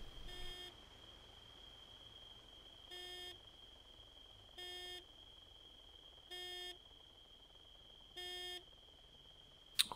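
Short electronic horn honks in Arma 3 with an Altis Life setting, five evenly spaced bursts about two seconds apart, each roughly half a second, sounding over a steady high-pitched tone and low background noise.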